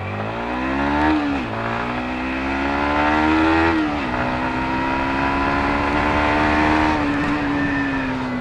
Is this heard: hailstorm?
no